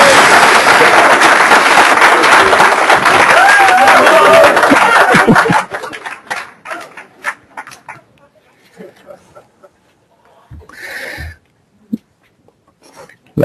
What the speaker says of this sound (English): Come on, then clap.